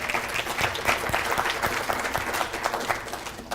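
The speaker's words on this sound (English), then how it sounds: "Please give her a warm round of applause." An audience at a PSA 2017 event gives a short burst of warm applause, scattered hands clapping at moderate volume in a room.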